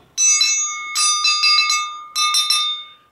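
Heavy metal pieces of a ball joint press kit clanging together, producing bright, bell-like ringing hits in three clustered bursts, each with several quick strikes and a lingering metallic ring, loud and close.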